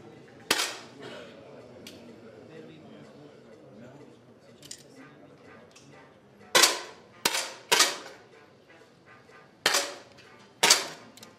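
At a youth rifle competition match, a series of sharp, close rifle shots cracks out irregularly, a single one early, then a cluster of five spread over several seconds, over a low hum of the range. Faint voices murmur in the background.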